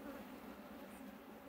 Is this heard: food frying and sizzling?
no